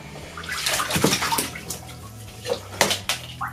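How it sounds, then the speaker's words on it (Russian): A large male anaconda, a water boa, moves about in a bathtub of water, causing a continuous messy sloshing and splashing with sharper splashes now and then. The sound is close and there is no speech. "Как раз когда она касается воды, она начинает активно двигаться."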